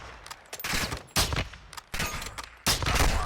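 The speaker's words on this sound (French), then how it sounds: "mettre une balle dans la tête avec votre Il y a fusil de 4 précision quatre silencieux" Suppressed sniper rifle fire from Call of Duty Modern Warfare 2, heard as several sharp, loud shots at regular intervals, each followed by a crackling, rattling tail of in-game sound, with no voices.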